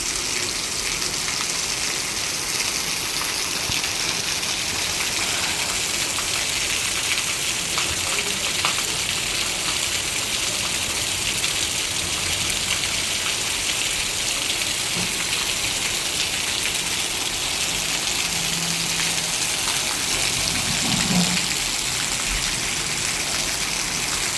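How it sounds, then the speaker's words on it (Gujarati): Heavy rain pours down in a dense, continuous hiss over Bamroli village, steady and loud throughout with no voices. "જોરદાર વરસાદ આવે છે। ધોધમાર એટલે એક નંબરનો વરસાદ આવે છે।"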